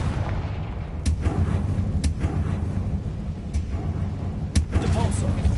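Fire-blast spell explosions from the video game Hogwarts Legacy, a rapid series of sharp cracking hits and booms over rumbling battle sound effects.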